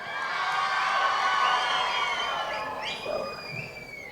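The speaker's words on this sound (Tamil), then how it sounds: "எங்கள் சின்னத்திரை நயன்தாரா அக்காவிற்கு ஒரு பெரிய கைத்தட்டல்" An audience at a film teaser and pre-release event claps and cheers, with shouts and whoops rising loud and then tapering off toward the end.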